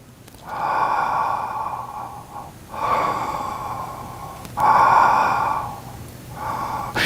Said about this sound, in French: Et la respiration.